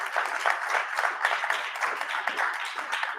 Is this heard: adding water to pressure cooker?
no